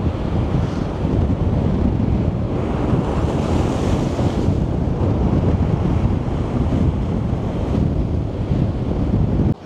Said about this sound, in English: you can see how choppy the sea is today